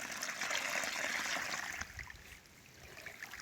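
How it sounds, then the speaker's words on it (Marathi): A small, steady stream of water runs gently while filling a village wheat field, loud at first and then fading to a quieter trickle. "थोडंसं पाणी चालू फक्त थोडं त्याच्यामुळं चालू भरायचं काम"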